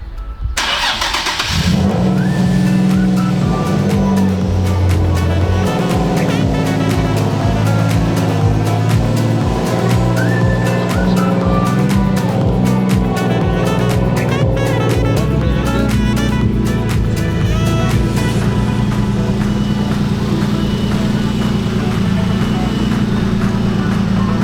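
A turbocharged Nissan 350Z fitted with a drag clutch starts up and settles into a steady, rumbling idle while warming up, loud and close with a few light blips and rattles throughout.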